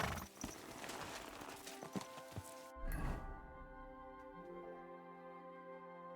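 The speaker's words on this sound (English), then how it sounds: "mount up on our horse so we'll actually get there a bit faster" Horse hooves in the video game Kingdom Come Deliverance 2, a quick run of clip-clop steps over a few seconds, then a louder thud followed by a fading tonal ring against quiet ambience.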